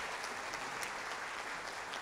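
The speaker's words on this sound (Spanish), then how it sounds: "para quienes pido un fuerte aplauso" A crowd at a cultural tribute event breaks into strong, sustained applause, an even wash of many hands clapping with no pauses and no voices on top.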